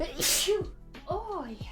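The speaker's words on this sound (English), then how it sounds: "I need to sneeze." A single sharp, loud sneeze from an adult nearby, preceded by a brief spoken exclamation and followed by a short remark.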